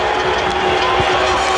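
A cricket crowd at a match roars in steady, loud cheering after a wicket, the broad wash of voices holding for the whole stretch, with faint commentary underneath.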